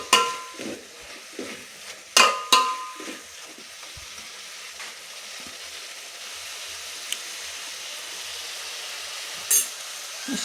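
Tomatoes softening in a pan for huruli kattu saaru while being mashed with a ladle: a steady low sizzle runs throughout, broken by several sharp utensil clanks and scrapes against the pan near the start.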